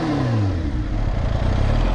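A supercharged Kawasaki H2R motorcycle engine revs hard and loud, its pitch sweeping down then holding in a steady, rough roar with a whooshing supercharger intake character.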